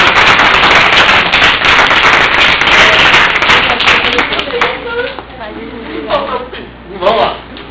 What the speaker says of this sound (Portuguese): Palmas para o cromossomo.